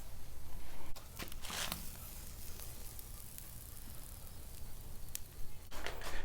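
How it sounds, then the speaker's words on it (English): Beef tongues searing on a barrel smoker grill, a steady broadband sizzle with a few sharp crackles and bursts, close by and without talk. "it's time to throw these tongues right onto the grill"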